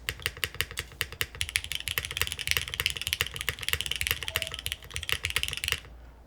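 Rapid, steady typing on a Neo75 mechanical keyboard with a granite-switch spacebar, crisp close key clacks in quick succession for several seconds before stopping abruptly.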